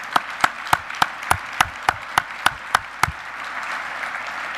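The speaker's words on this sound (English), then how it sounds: "Let's give her a round of applause." Applause at an ROTC students and veterans dinner: about a dozen crisp, evenly spaced claps ring out above a low room murmur, then stop after about three seconds and leave only the background hum.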